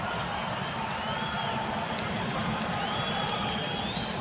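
A large arena crowd at the 1993 NBA Slam Dunk Contest roars and cheers steadily, a dense continuous wall of noise with scattered shouts and whistles rising through it.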